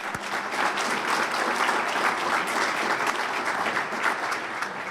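An audience at a college presidents' breakfast applauds steadily, a dense, even wash of many hands clapping with no gaps, moderately loud and sustained throughout.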